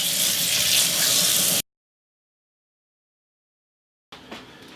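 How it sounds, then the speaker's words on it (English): Noodles rinsed under a running kitchen tap make a steady, close rush of water, then a gap of silence before a fainter burst of water resumes at the end. "So I just rinse that starch off of the noodles."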